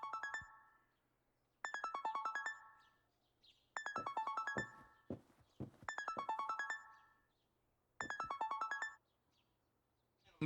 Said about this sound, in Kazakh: телефоның шырылдап жатыр.